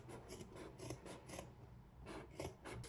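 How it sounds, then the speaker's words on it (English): Scissors trim a fabric seam allowance on a cork sewing project, giving a quiet run of rhythmic rasping snips and rubs, close up and without talk. "I'm just trimming it down by half, so especially around that corner."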